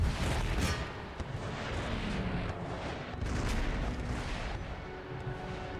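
Troops firing on city walls during a siege of Moscow in Empire Total War, a dense, distant rumble of musket and cannon fire with repeated booms rolling over one another.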